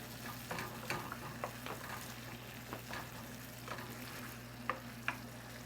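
Beef stock is stirred into a thick sauce in a pan for filet mignon topped with crab meat. A steady sizzle runs throughout, broken by repeated scraping strokes of the spoon, close and moderately loud, with no talking.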